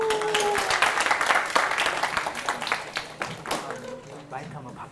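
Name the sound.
audience applause after a lecture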